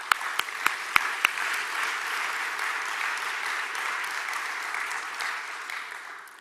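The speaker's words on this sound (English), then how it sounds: "A round of applause." Audience applause fills a business investment conference hall, a steady wash of many hands clapping for several seconds, opening with a few sharp, distinct claps and gradually thinning toward the end, with no voices over it.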